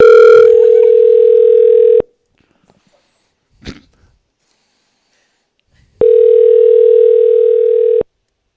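A call rings out on a phone line, heard as two loud, steady ringback tones of about two seconds each. Near-silence separates them, broken only by a brief noise in the gap.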